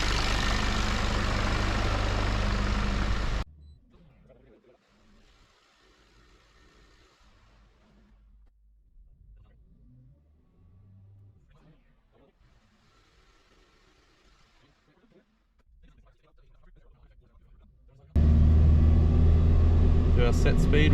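A Nissan ZD30 diesel engine runs loud on a dyno, roaring at the start, dropping away while voices talk, then surging back hard near the end.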